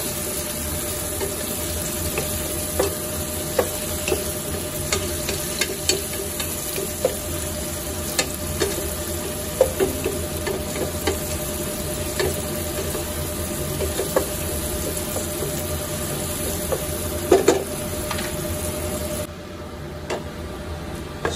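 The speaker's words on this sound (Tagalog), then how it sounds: "Dudurugin lang natin yung kamatis at lulutuin mabuti para lumabas yung kanyang sarap." Tomatoes being crushed and sautéed in a pan for ginisang sayote, with steady close sizzling and scattered scraping and stirring clicks, no talk, continuing throughout before dropping slightly at the very end.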